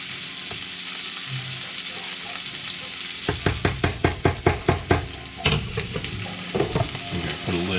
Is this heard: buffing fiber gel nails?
no